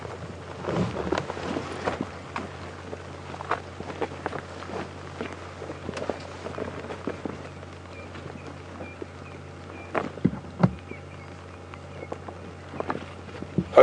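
Rain beginning to fall on a safari vehicle at Djuma Game Reserve in the evening, scattered pattering drops and taps over a low steady rumble, fairly faint and irregular, no talking.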